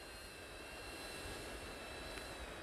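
A DJI Avata drone flying in manual mode gives a steady, high-pitched propeller whine and rushing hum that stays even and close throughout, with no voices.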